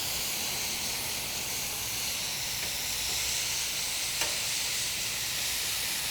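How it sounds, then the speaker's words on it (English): Steak fajitas sizzle steadily on an outdoor grill, a loud continuous hiss of searing meat that holds evenly throughout with only a couple of faint clicks, no voices present. "Getting some nice char on this now."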